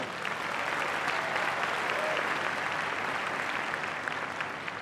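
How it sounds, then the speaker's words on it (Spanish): A large conference audience in Mexico at a 2016 dialogue event gives sustained applause: a thick, even wash of many hands clapping at steady volume throughout, with a faint crowd murmur beneath. "Un aplauso."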